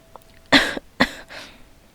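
A flower character in a Korean audiobook narration of The Little Prince coughs twice in quick succession, sharp and close, followed by a softer breathy trailing sound as a voice imitates the cough.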